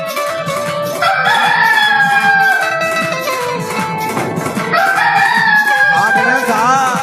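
A rooster crows loudly and close, with several overlapping drawn-out calls and clucking from other fowl, the crows rising and falling in repeated bursts, no speech.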